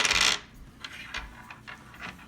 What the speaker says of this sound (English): Beat That is basically you're going to roll the dice